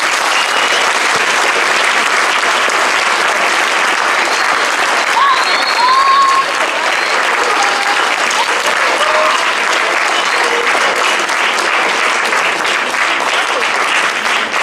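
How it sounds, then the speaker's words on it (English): Audience applause at a school honor society certificate ceremony, steady dense clapping from a large crowd that carries on loud and unbroken for about fifteen seconds, with faint voices underneath. "I'm going to ask you to give them a good applause as a thank you"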